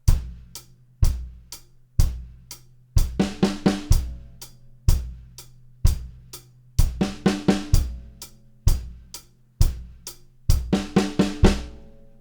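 Acoustic drum kit playing the first four bars of a grade 2 drum solo, a steady pattern of evenly spaced single hits broken by recurring bursts of rapid snare and tom strokes, close, clear and unaccompanied.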